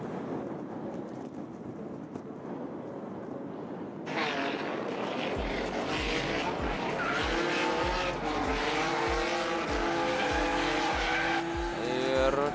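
A turbocharged BMW E46 race car on a circuit at Šiauliai, a distant engine swelling into a close, loud high-revving roar with rapid gear changes and rising pitch as it passes on track.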